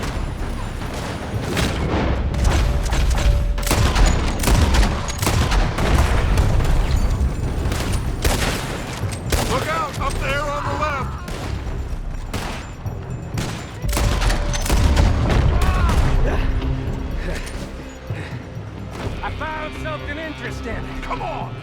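Heavy gunfire erupts from a building in the Western video game Red Dead Redemption 2, with dense volleys of shots and booming blasts repeating throughout, loud and close, under a busy game soundtrack.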